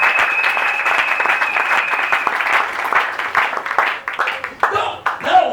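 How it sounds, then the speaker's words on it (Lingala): A church congregation at an annual assembly breaks into sustained applause, dense clapping filling the room before thinning into scattered claps and voices toward the end. "Pepela Yesu maboko."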